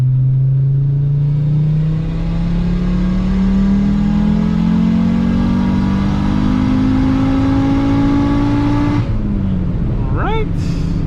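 An Audi UrS6 running rich pulls hard at wide-open throttle in third gear, its engine note climbing steadily for about nine seconds before the throttle lifts and a voice speaks briefly.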